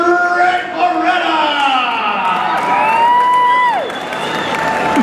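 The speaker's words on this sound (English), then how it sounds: "The mediocre applause he's used to." A wrestling crowd cheers and applauds a wrestler, with rising whoops and shouts over steady clapping, loud and close throughout.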